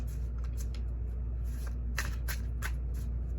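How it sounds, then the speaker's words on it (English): Tarot cards being shuffled by hand give a soft, continuous riffling and sliding with a few brighter flicks, close and fairly quiet over a low background hum, with no talking. "I like it where y'all can see that I'm actually shuffling."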